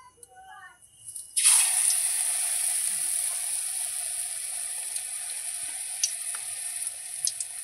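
Whole fish drops into hot oil after a quiet moment, setting off a sudden loud, bright sizzle that keeps hissing and crackling steadily close by.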